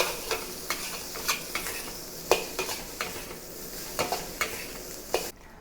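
Salted egg fried rice being fried over high heat, a steady sizzle broken by sharp, regular scrapes and clinks of a spatula against the pan, close and fairly quiet, with no voices.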